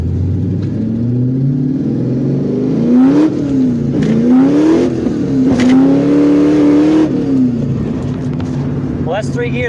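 A truck engine revving hard and climbing through three gears with tires burning rubber, a loud rising and falling roar close by, with people talking and exclaiming over it.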